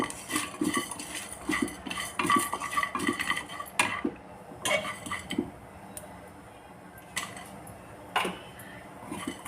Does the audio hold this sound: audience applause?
no